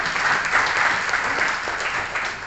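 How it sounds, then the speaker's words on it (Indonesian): A crowd claps together at a city anniversary gathering in Kupang, a thick, even wash of applause that swells slightly midway and eases toward the end, with no talking. "Kita beri aplaus untuk itu."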